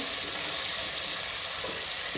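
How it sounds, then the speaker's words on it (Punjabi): Continuous loud sizzling of onions and potatoes frying in hot oil with a few drops of water, steady and close throughout with no talking. "ਪਾਣੀ ਇਹਦੇ ਵਿੱਚ ਇੱਕ ਦੋ ਬੂੰਦਾਂ ਰਹਿ ਹੁਣ ਇਹ ਇਸ ਕਰਕੇ ਇਹ ਆਵਾਜ਼ ਦੇ ਰਹੇ"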